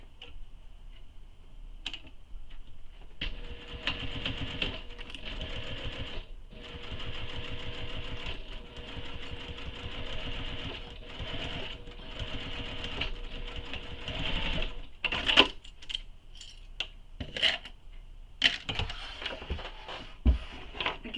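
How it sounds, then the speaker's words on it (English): A sewing machine stitches bag fabric around a curve with a rapid, steady ticking hum, pausing briefly and restarting several times, fairly quiet and close, with a few handling clicks near the end. "we're going to sew this on the curve"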